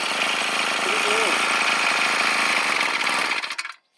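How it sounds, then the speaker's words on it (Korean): A reassembled brush cutter with a stalling problem runs loud and close with a steady, buzzing engine drone for about three and a half seconds, then abruptly cuts out into silence. "이렇게 해서 이제 시동을 걸면 시동이 걸려"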